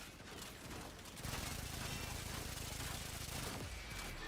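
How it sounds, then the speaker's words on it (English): Rapid automatic gunfire from a weapon in a shooter video game, a dense continuous burst that swells loud after a brief lead-in and holds steady for several seconds. "this thing goes through its mag insanely fast though"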